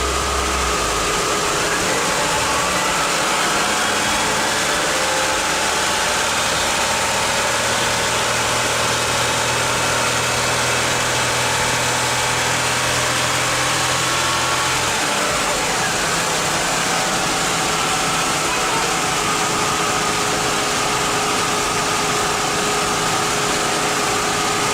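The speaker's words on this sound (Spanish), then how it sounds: "en este momento voy a llevar el motor a unas 2000 revoluciones" A car engine is held at about 2000 rpm during an alternator check, giving a steady, continuous mid-pitched hum that shifts slightly around the middle and carries on alone, with no talk.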